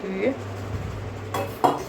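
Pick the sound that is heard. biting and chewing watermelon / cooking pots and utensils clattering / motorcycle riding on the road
cooking pots and utensils clattering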